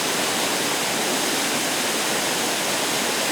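Steady broadband rush of a waterfall in Neidong National Forest, a continuous dense roar of falling water with no break or voices over it.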